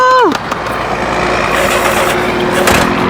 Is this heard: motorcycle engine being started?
yes